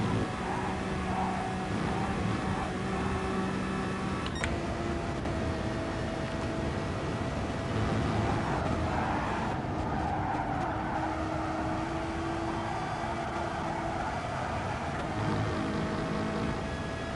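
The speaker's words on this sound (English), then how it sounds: "you can just hear the understeer of the Renault" Renault GT300 race car in GT Sport racing at Kyoto Yamagiwa, engine tones holding and shifting under a hiss of tyres scrubbing and sliding while understeering, steady and moderately loud.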